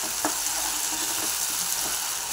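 Masala paste sizzling and frying in a pan while cooking a bitter val bean curry, a steady broadband hiss with a few faint stirring clicks, close and moderately loud.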